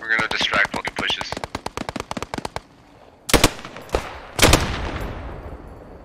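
Rapid automatic gunfire in the World War 2 shooter Post Scriptum, a fast close burst of evenly spaced shots followed by a pause and three heavier separate blasts with echoing tails, loud over faint voice chatter.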